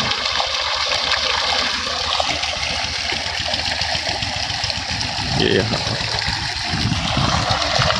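Water gushes steadily from the 2.5-inch delivery pipe of a 1 HP pump on a three-panel bike trolley, a loud continuous rushing wash. Someone talks over it throughout.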